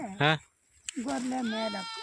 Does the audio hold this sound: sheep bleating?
yes